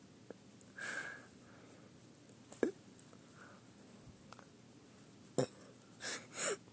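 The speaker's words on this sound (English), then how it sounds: "I think it's trying to, like, hiccup." Several short, sharp hiccup-like catches with sniffs and breathy gasps in between, irregularly spaced across a few seconds, close and fairly quiet.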